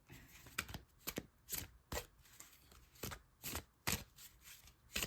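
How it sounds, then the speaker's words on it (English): Crisp bursts of tarot cards being riffled and shuffled, about nine quick flurries in an uneven rhythm, close up with quiet pauses between. "These are so hard to shuffle."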